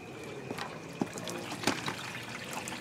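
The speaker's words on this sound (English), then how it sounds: "Now that I got it flushed out with hose water" Garden hose water flushing through a truck heater core during a radiator upgrade on a first-generation Cummins, a steady trickling, gurgling flow with a couple of brief splashy bursts, close and continuous.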